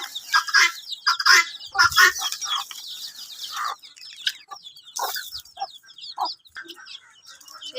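Chickens and growing chicks cluck and chirp close by at feeding time, with irregular bursts of short calls and sharp peeps overlapping, loud and busy with brief pauses.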